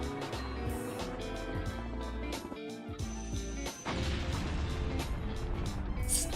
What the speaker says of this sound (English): Silly ass explosion.